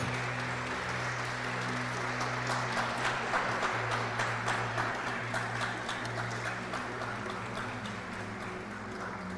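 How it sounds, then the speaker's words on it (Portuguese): A church congregation claps steadily and loudly, sustained applause over a low background hum, slowly fading toward the end. "Eu gostaria que você desse uma salva de palmas ao Senhor."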